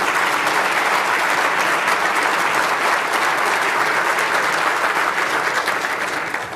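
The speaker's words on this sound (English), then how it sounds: "Let's give our men and women of the Milwaukee Police Department a round of applause." Loud, dense applause from a large audience at a city address, honoring the Milwaukee Police Department; sustained and even throughout, tailing off slightly at the very end.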